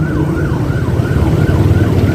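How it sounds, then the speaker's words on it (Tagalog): A loud, close ambulance siren wails continuously in a steady rising and falling cycle while stuck in heavy traffic, with a low road and engine rumble underneath. "Ang ingay ng ambulansya hindi makalusot."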